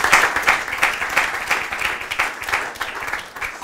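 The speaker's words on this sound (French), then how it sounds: "On les applaudit." Audience applauding at a Quebec public lecture event as speakers are introduced, a dense steady clapping of many hands, close and fairly loud, continuing throughout without voices.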